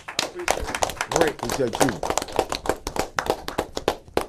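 A small audience applauds a guest named Pep on a go-go music talk show, a dense patter of hand claps going on throughout, with someone speaking briefly over it.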